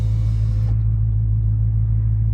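A 2023 Dodge Charger R/T Blacktop Edition engine rumbles steadily at close range, a deep continuous drone with a brief brighter whoosh fading out early on.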